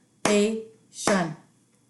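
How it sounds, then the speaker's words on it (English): Two sharp hand claps, spaced under a second apart, each with a quick ringing tail in a quiet room, beating out syllables of a long word. "Let's clap it out."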